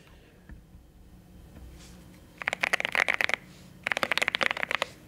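Typing on a modded Keychron Q1 mechanical keyboard: two quick bursts of crisp, close clacking keystrokes separated by a short pause, against a quiet background.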